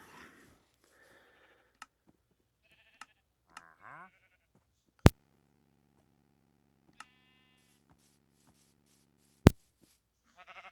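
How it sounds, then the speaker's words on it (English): Sheep bleat in Minecraft in short synthetic cries spread across a quiet stretch, joined by a low buzzing drone, a few sharp clicks and two loud snapping hits, with no talking. "Shear the sheep, get some wool"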